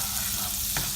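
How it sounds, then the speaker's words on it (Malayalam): Butter melting on medium heat in a hot pan for white sauce pasta gives a continuous close sizzling hiss, steady and soft, with one brief brighter crackle near the end. "ബട്ടർ ഒന്ന് നന്നായിട്ട് മെൽറ്റ് ആവട്ടെ."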